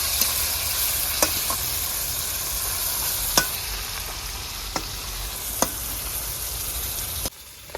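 Onions and halved tomatoes sizzling steadily in hot oil in a home kitchen, a constant close frying hiss with a few sharp pops and spatters scattered throughout, the hiss dropping off abruptly near the end.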